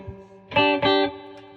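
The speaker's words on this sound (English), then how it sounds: "So that's the sound of it just with the EP booster." Electric guitar played through an EP booster pedal, two sustained chords ringing out loud and close with a slight edge of drive, separated by a short pause.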